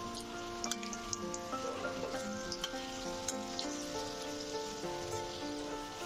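Jackfruit cutlets fry in white oil in a wok, a continuous soft sizzle dotted with sharp pops and crackles, rain-like in texture, with a faint steady tonal hum underneath.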